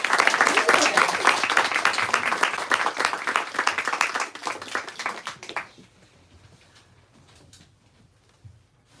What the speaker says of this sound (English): please give these wonderful authors a round of